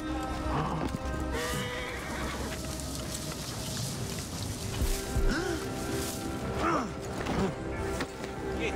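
Horse neighing and hooves clip-clopping in Assassin's Creed Origins gameplay, several sharp whinnies over steady hoofbeats and creaking ambience, with little talk.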